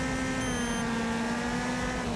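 The engine of a Gremlin car in a racing video game holds a steady, loud drone at constant pitch with no breaks.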